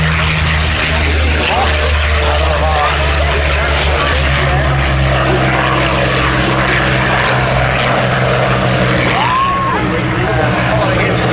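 Piston-engine fighter aircraft climbing away from the runway at the Duxford Battle of Britain Airshow, a steady loud propeller drone throughout with a commentator talking over it.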